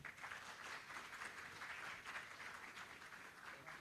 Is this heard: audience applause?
yes